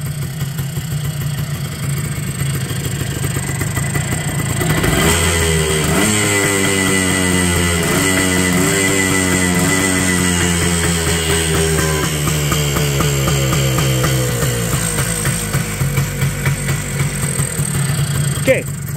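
A 1985 Yamaha Tri-Moto 125 two-stroke engine fires up after a single pull and runs, first a low idle, then a rising, buzzing rev that climbs and settles, loud and close.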